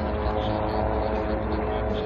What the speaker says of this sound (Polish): A już na podejściu są śmigłowce PZL SU-4 Puszczyk.